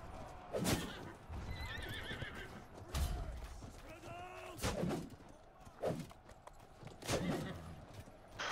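Cavalry horses in the siege battle game Conqueror's Blade whinny repeatedly amid galloping hoofbeats and distant battle booms. The shrill neighs rise above a steady rumbling field of combat sound.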